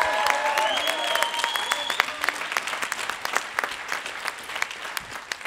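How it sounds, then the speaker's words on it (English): A concert audience at a spring jazz ensembles show applauds a jazz student, full clapping with whistles and cheers early on, then thinning to sparse, distinct claps that trail off. "So can we please give Duke a huge round of applause?"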